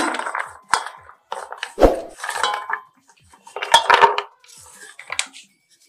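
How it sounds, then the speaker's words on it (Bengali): Chopped pumpkin pieces dropped into a bowl, giving a series of close, uneven clattering knocks and scrapes of food and utensil against the dish, bursts separated by short pauses, with no talking. "বাটির মধ্যে কুমড়োটা দিয়ে দিচ্ছি, কুমড়ো কুচি"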